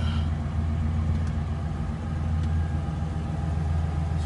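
A Chevrolet Impala SS engine idles while warming up, a steady low rumble that runs evenly and close by without any revving.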